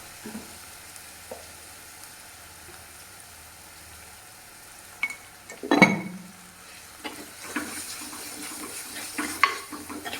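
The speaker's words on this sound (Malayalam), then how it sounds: "അങ്ങനെ നമ്മളെ ഉള്ളിയൊക്കെ നന്നായിട്ട് മൊരിഞ്ഞ് വന്നിട്ടുണ്ട് കുറച്ചുകൂടി കൂടി മൊരിയട്ടെ" Onions frying in a pan for a fish curry, a low steady sizzle with occasional stirring scrapes and clinks, including one sharp louder scrape midway, close and with no talk.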